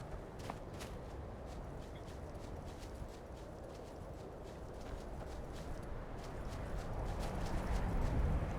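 Horse hooves clop steadily at a walking pace in the video game Skyrim, a continuous even rhythm over a dense background ambience that swells slightly toward the end.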